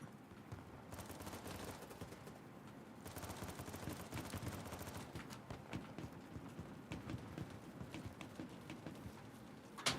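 Rapid bursts of gunfire from a firing squad in the video game BattleBit Remastered. The shots crackle steadily at moderate, distant-sounding loudness.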